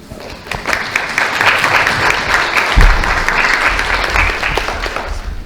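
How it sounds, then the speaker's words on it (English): Outdoor crowd applause at a community gathering on residential segregation, held in the rain: dense, sustained clapping rising quickly and staying loud and close, with a low thump near the middle. "Give yourselves a round of applause."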